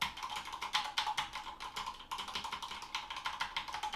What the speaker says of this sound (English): It's very clicky. I'll do this.